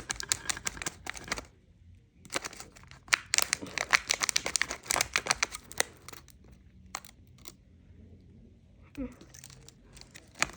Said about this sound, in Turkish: Şimdi yırtıyorum.